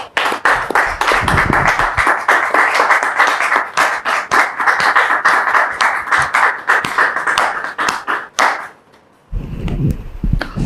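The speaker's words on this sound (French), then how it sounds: "applaudissements, s'il vous plaît." A studio audience on a French-language talk show claps loudly and steadily for arriving guests, a dense run of hand claps that cuts off abruptly near the end, followed by brief rumbling movement.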